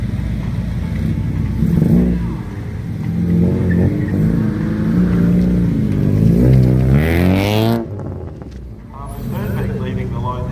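A supercharged 1.6-litre Mini Cooper S pulls away from a sprint start line, its engine climbing hard through the revs, loud and close, then dropping off sharply as it shifts, with voices talking over the din.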